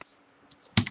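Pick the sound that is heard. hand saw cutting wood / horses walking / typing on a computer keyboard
typing on a computer keyboard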